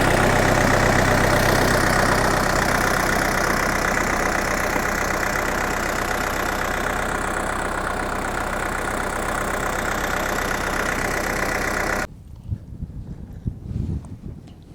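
A DT-75 tractor engine idles loud and close with a steady, even rumble for about twelve seconds, then cuts off abruptly, leaving a quiet background with a few faint knocks.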